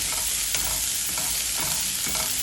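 Onion sautéing in mustard oil with cumin and mustard seeds: a steady, even sizzle runs throughout, broken by a few soft stirring scrapes in the pan, with no talking.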